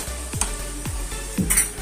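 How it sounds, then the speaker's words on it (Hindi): Cashews frying in a pan over a high flame, with a steady sizzle and a few scraping stirs repeating about every half second, close and moderately loud with no talking. "अब हमें इसको ब्राउन होने तक अच्छे से तलने देना है"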